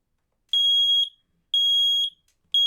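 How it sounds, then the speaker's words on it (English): Home smoke alarm going off with loud, piercing electronic beeps, repeating in about half-second bursts separated by short silences, close and alone with no other sound. "When the smoke alarm detects the smoke and goes off"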